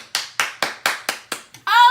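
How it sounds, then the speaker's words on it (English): Seven sharp hand claps in a steady rhythm, close and loud, made by a group of girls building a LEGO set, followed by a brief bright tonal burst at the end. "Please, everybody clap your hands."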